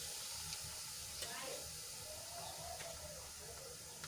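Bay leaf, cinnamon stick, dried red chili and a pinch of asafoetida sizzle in hot oil with cumin for a dried val bean curry, a steady low hiss and crackle running throughout.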